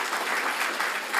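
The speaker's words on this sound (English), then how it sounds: "Give them an applause." An audience at a college reunion keynote breaks into steady, dense applause that carries evenly through the moment.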